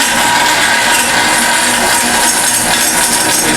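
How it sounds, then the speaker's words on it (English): Vertical bandsaw cutting parts in a workshop, a dense, loud, continuous whirring and hissing blade noise with steady grinding texture throughout, close by and alone. "we're going to just take these things on the vertical bandsaw"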